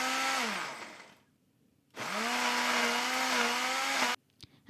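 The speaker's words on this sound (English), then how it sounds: "Let's blend everything together." A blender whirs loudly in two long bursts separated by a short pause, its motor pitch dipping and recovering as it churns a thick Thai curry paste with shrimp paste.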